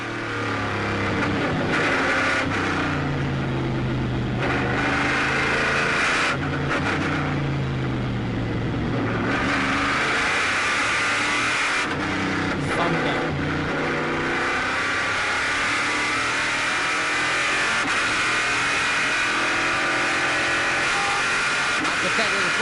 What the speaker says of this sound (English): Let's just listen in to the Corvette for a moment.